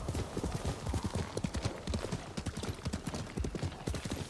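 A horse gallops in the Ghost of Tsushima video game, its hooves drumming in a quick, steady rhythm close by and continuing throughout.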